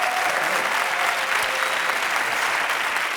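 Studio audience applauding a French lion tamer: dense, steady clapping from a crowd, loud and continuous throughout with no talk over it.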